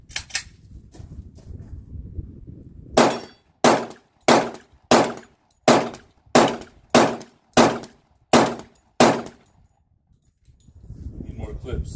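A Glock 20 10mm pistol fires ten evenly spaced loud shots, roughly two every second, close and sharp, with faint background noise before and after the string.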